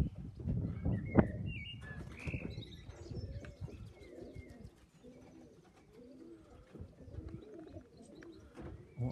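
Pigeons coo outdoors, several soft, low, throaty calls repeating through the stretch with a few chirps and brief wing flutters, fairly faint and with no talk.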